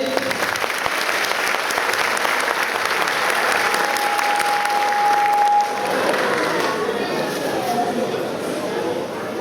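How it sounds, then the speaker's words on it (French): An audience at a martial arts gala applauds to encourage performers, dense clapping that swells and then thins toward the end as a murmur of voices and crowd chatter carries underneath. "Vous pouvez les applaudir pour les encourager."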